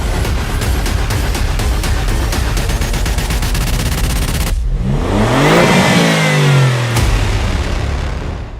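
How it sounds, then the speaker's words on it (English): Alfa Romeo Giulia GTA with a titanium Akrapovic exhaust, loud crackling rapid-fire pops giving way to a sharp rev that rises and falls, then a final burst, close and alone. "they released a little clip showing you exactly what it sounds like"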